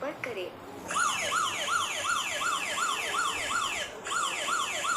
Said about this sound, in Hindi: ये मोबाइल पूरी तरीके से लॉक हो चुका है और अलार्म करने लगा है।